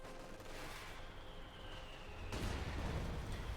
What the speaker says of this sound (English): Nasty mortar hit in like Kedneffer.